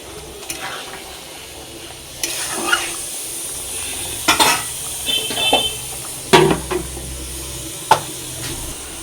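An egg curry with garam masala bubbles and sizzles in a pan, with a constant hiss broken by scattered stirring clinks and scrapes at close range.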